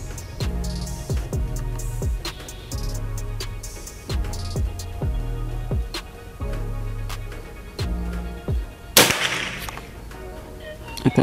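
Predator Tactical PCP air rifle fired at a target range, a series of sharp cracks spaced about a second apart over a background of rhythmic thumping music, then a louder burst of noise near the end.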